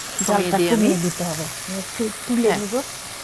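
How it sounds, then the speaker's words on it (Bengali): Prawns frying in oil in a home kitchen produce a steady background sizzle while someone talks over it throughout. "চিংড়ি ভাজা কালারটা চেঞ্জ হয়ে গেছে"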